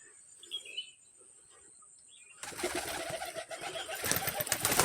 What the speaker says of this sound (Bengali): এটা আমার কবুতরের ঘর,